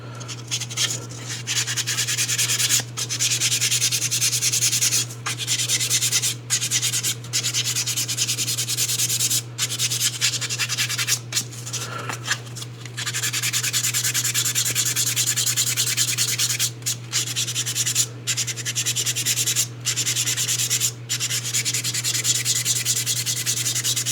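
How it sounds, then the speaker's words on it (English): Sanding on a 1/5 scale figure kit makes continuous close rubbing strokes with short regular pauses, over a constant low hum that runs throughout. "I'm going to sand a little bit to see how that looks."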